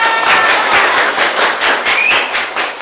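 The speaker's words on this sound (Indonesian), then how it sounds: "Tepuk tangan buat temennya." A class of schoolchildren claps for a classmate, steady dense applause from many hands filling the room for about three seconds without pause, fairly loud and close.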